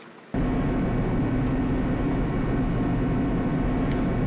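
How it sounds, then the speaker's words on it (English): Elevator machinery in Danganronpa: Trigger Happy Havoc starts abruptly and runs as a loud, steady low rumble and roar, close and unbroken for several seconds, with no talking. "This time, the clunking was loud enough to hurt my ears"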